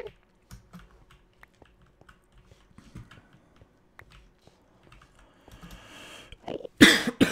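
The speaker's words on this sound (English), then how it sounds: "Coffee cough, that's fine." A single close cough bursts out at the very end, after a stretch of quiet, scattered computer keyboard typing during a game session.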